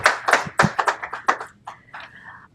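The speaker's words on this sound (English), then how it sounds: "Please, everyone, give a warm round of applause." A small round of hand claps from an audience at a Korea-US investment event with Chairman Park Jong Soo, a dozen or so distinct claps that thin out and fade within a couple of seconds, no talking.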